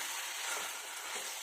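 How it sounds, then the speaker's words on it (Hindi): Chicken frying with masala in a pan for a Konkani chicken rassa curry, a soft steady sizzle with faint stirring scrapes, quiet and close with no voices. "चिकन को जो है ना हमें 2 से 3 मिनट मसाले के साथ भी भूनना है"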